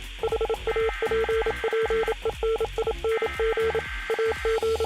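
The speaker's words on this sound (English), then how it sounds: "you'll hear some Morse code" Beeping Morse-style tone patterns coming from TVs on the island in Fortnite, a steady run of short and long electronic beeps, loud and close, with no talk.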